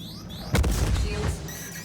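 A size 5 torpedo hits a Carrack ship in a space combat game, a deep, heavy booming impact that swells suddenly and rumbles for about a second over a steady electronic hum.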